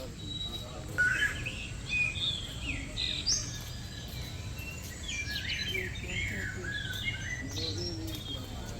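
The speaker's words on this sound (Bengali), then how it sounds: "কত সুন্দর কোকিলের ডাক দেখো" Birds calling in a green park in the morning, including a koel, with scattered bright chirps and whistles at moderate distance over a low background hum, while someone speaks softly.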